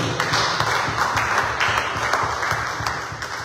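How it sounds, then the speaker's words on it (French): Church congregation applauding during a Sunday service, a steady wash of many hands clapping close by and fairly loud, with scattered sharper claps standing out throughout. "Acclame le Seigneur."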